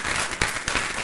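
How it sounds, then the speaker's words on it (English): An audience at a city council special session claps in a short, dense burst of applause that fills the room throughout. "can I ask people to hold on the clapping"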